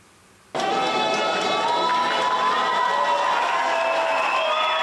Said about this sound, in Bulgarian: Стотици посрещнаха с овации олимпийските шампиони на България в борбата.